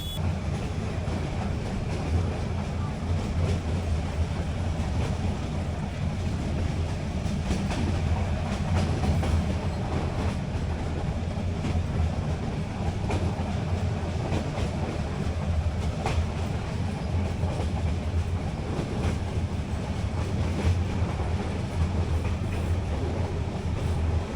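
A meter gauge train running from Junagadh to Sasan Gir rumbles steadily throughout, with a deep continuous hum and faint rhythmic clatter of wheels on rail, close and even in loudness.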